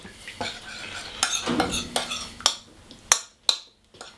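Spoon stirring a turbot dish dressed with lemon juice and pepper: a run of close scraping and stirring strokes followed by several crisp clinks of metal against the plate or pan.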